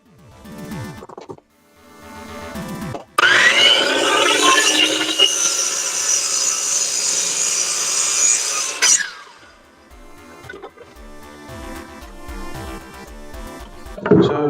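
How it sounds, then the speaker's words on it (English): A saw cuts about half an inch off the end of a 2x4 board while building a rolling workbench, giving one loud, sustained rasping burst of several seconds, with quieter handling and knocking noises before and after it. "So I'm just cutting off that extra ½ inch that they gave me"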